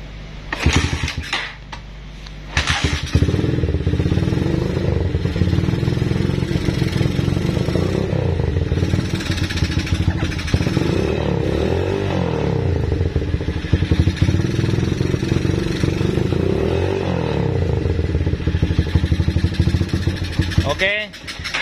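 Honda Megapro motorcycle engine started and left idling close by, a steady rumbling run after a brief start, with someone talking over it.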